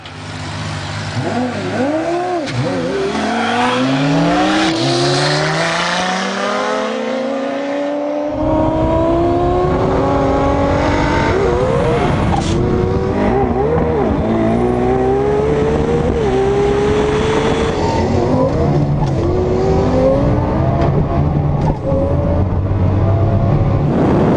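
An AMS-built Nissan GTR racing three Lamborghinis, loud high-revving engines climbing and shifting through gears in repeated rising sweeps, several cars roaring together close by for the whole stretch.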